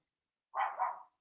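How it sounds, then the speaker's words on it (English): A dog barks somewhere in the background, two close-together barks forming one short, moderately loud burst in an otherwise quiet room. "there was just a dog barking"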